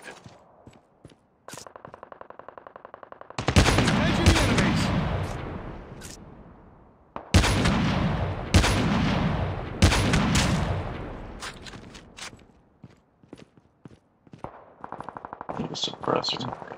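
Gunfire in Call of Duty Mobile, a battle royale game, comes as loud bursts of rapid automatic shots with echoing tails and quieter single shots between them, close and dominant.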